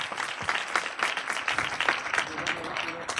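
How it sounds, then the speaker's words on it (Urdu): A congregation at an evangelistic church meeting in Karachi applauds in a dense, fast patter of clapping with crowd voices mixed in. "زوردار اپنے قدرت والے خدا کے لیے تالیاں بجائیں"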